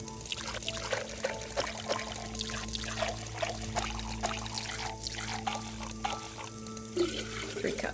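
Water pours steadily into a container in the video game Penelope Pendrick and the Art of Deceit, a continuous close trickle and splash with a faint hum underneath, lasting the whole stretch without pause.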